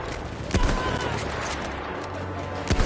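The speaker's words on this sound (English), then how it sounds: "I just shot that man in the ass." Battlefield 1 gunfire: a constant rumble of distant battlefield shooting, broken by a few louder, closer shots, with a voice faintly underneath.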